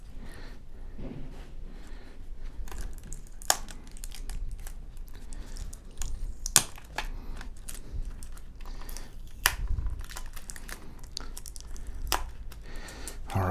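Tape peeled and pulled off the metal back plate of a Sony XBR 55X930E TV, heard as close crinkling and tearing with scattered sharp clicks and taps throughout.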